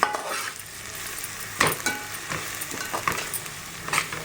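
Gongura leaves fry in oil for gongura chicken, a soft sizzle broken by several sharp scrapes and knocks of a spoon stirring in the pan.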